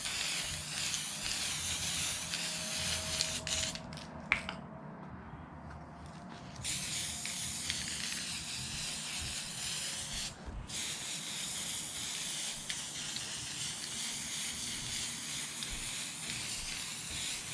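Aerosol spray paint hissing steadily as a protective coat goes onto a clear RC car body for an Arrma Limitless, with brief pauses between passes, close and continuous.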